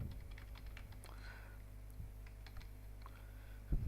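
Light typing on a computer keyboard while entering a heading in an Excel sheet, faint scattered key clicks over a low steady hum, with a louder knock near the end.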